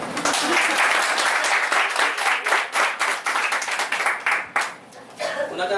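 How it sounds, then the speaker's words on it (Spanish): An audience at a talk on the psychological profile of the psychopath gives a lively burst of clapping in quick, uneven waves. It fades toward the end as a voice cuts in. "El aplauso."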